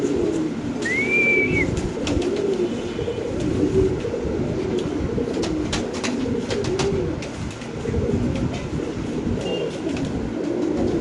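Pigeons at a breeding loft coo softly and repeatedly in the foreground, with a brief chirp and scattered clicks and rustles over a low background rumble.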